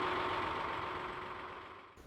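A Vista HA3 diesel engine from 1968 idles aboard a canal narrowboat, a steady, fairly loud hum running the whole time with no talk over it.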